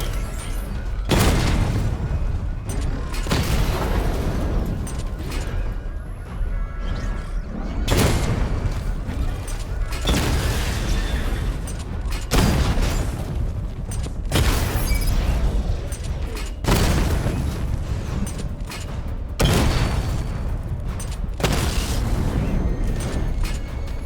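Repeated heavy booming blasts from a missile barrage in Batman: Arkham Knight, about a dozen dense explosions roughly every two seconds, loud and continuous with rumbling low end and no gaps of silence.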